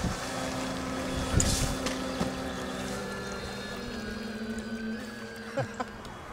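A Carplounge RT4 remote-control bait boat motors back across a lake at Old Oaks as rain starts, its thin steady engine whine running throughout under gusty wind noise and a few soft knocks.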